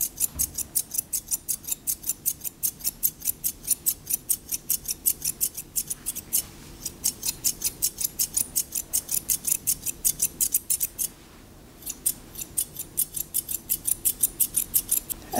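Scissors snipping hair on a styling head, a fast, even run of crisp metallic cuts close by, with two short pauses between bursts.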